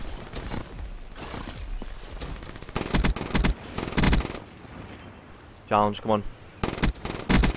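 Rapid bursts of automatic gunfire in the shooter Black Ops 3 crack loud and close, repeating in several clusters with short pauses, while someone talks briefly between them.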